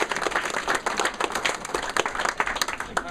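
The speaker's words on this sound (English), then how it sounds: "give him a round of applause" Audience applause at the opening ceremony of Rory Fest in Ballyshannon, 2014: steady, dense clapping from a roomful of people, loud and close, filling the whole moment with no speech over it.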